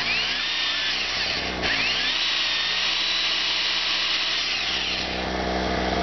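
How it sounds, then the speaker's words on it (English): An electric drill whines loudly up close inside an RV, its pitch rising and dipping as it works, over the steady drone of a running generator. "My electric drill."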